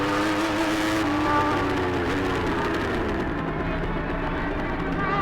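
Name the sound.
Formula Pacific racing motorcycles passing on track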